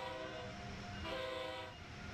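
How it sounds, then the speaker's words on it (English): Acela Express train horn on the Northeast Corridor in the game Train Sim World 3, sounding loud, steady and sustained with a brief swell partway through, over a low rolling rumble. "Do the toot of the horn. Let passengers know I'm coming in."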